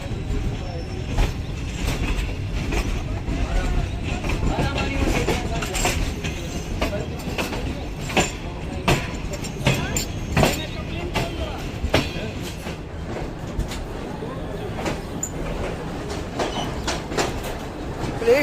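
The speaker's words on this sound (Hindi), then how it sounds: "रोडी रेलवे स्टेशन के ऊपर जो है अराइवल हो रहा है 27 अब शालीमार एक्सप्रेस का।" The Shalimar Express pulls into Rohri railway station in Pakistan toward platform 3, its wheels clacking in a steady rumbling run over the rails, with faint voices nearby.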